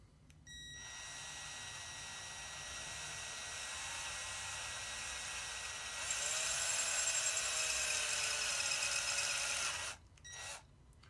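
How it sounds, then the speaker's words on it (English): A drill bit bores into an aluminum GoPro case with a steady, loud, high whine that rises in pitch and intensity partway through, then stops abruptly and gives one short final burst. "when you're drilling into metal, one thing that can happen is when the drill bit gets to a certain point, it can catch"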